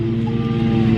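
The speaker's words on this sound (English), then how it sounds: "mowing his lawn" A neighbour's lawn mower drones steadily in the background of a homestead garden, with a constant low engine hum and no voices.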